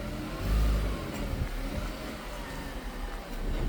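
A car engine starts and revs as the vehicle drives onto a brake test stand in a German workshop, a moderate mid-pitched engine drone with a brief surge early on, no talking.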